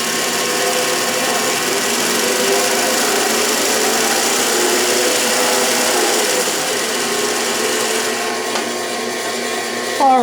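A Delta saw converted for metal cutting, driven by a DC motor slowed to about 300 feet per minute, runs with a steady mechanical whir and hum, loud and continuous throughout with no talk.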